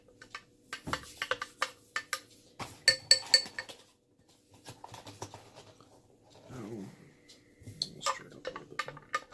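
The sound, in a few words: stirring oobleck mixture with a spoon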